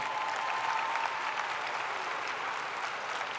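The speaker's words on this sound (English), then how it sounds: "Would you give your parents a round of applause and your family?" At a college graduation ceremony, a large crowd applauds the graduates' parents and families, a steady, rather distant wash of clapping that stays even throughout.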